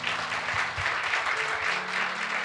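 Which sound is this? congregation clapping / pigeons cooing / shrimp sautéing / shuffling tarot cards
congregation clapping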